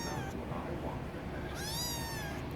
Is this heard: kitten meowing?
yes